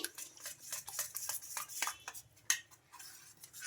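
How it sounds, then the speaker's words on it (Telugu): A spoon stirs semolina cake batter with oil and milk in a bowl, giving light, irregular clinks and scrapes that come in quick bursts, close up and fairly quiet, with no talking. "స్పూన్ తోటి మొత్తం మిక్స్ అయిపోయేలాగా కలిపేసుకోవాలి"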